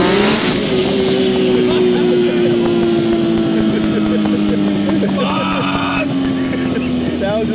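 A 1500 HP Nissan R32 GT-R with an RB28 engine at full throttle, a loud, sustained, rising engine roar filling the clip, with a brief higher-pitched tone near the end.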